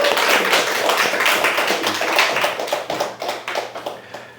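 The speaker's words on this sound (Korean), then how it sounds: "그래 우리 찬민이 박수" A church congregation applauding a child named Chanmin, dense close clapping from many hands that thins toward the end.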